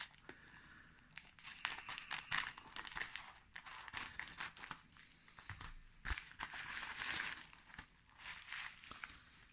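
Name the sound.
opening a package, crinkling plastic wrapping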